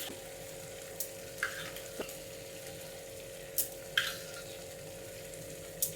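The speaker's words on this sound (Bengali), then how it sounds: "দিয়ে আবার একটু কষিয়ে নিচ্ছি গ্যাসের ফ্লেমটা একদম লোতে করে" Potato and pointed gourd curry with whisked yogurt fries on a low flame, a faint soft sizzle running steadily underneath, broken by a few sharp clinks and scrapes of stirring.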